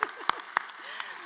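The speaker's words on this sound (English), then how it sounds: "clap for them." A few sparse, separate claps ring out at a graduation ceremony, three sharp hits close together then a fainter one, quiet and scattered rather than full applause.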